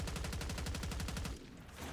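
Rapid automatic gunfire in the video game Warzone rattles in a fast, steady burst for over a second, then cuts off into a short lull before resuming.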